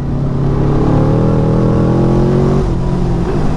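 A modified 200 hp Yamaha V-Max motorcycle revs hard with the rear wheel spinning, a loud close engine roar with rising tones that drops abruptly near the end.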